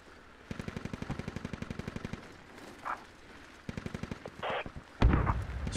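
A tank's coaxial machine gun fires in rapid bursts in the video game Squad, the rhythmic rounds repeating twice with a pause between them, followed by a louder impact or blast near the end.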